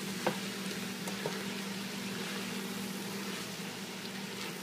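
Vegetables for a corn and crab chowder cook in a pot, giving off water as they soften, with a steady low sizzle and bubbling and a couple of faint stirring clinks, no talking.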